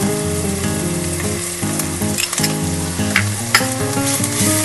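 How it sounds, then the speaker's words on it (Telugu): Chopped onions and ginger garlic paste fry in hot oil in a pan, giving a loud, continuous close sizzle with bursts of stirring and spatula scraping throughout. "ముందు ఆనియన్స్ వేసుకుంటున్నాం కొద్దిగా జింజర్ గార్లిక్ పేస్ట్"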